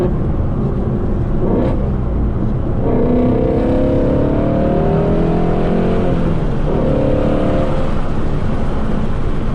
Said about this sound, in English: That flat plane crank V8 with that exhaust, oh my gosh, there's like nothing else out there.